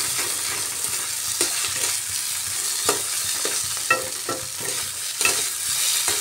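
Coarsely ground small shrimp frying in a pan while being stirred, a continuous sizzle broken by repeated scraping knocks of the spatula against the pan, close and fairly loud.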